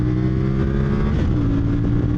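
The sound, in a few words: CFMOTO 2025 motorcycle engine revving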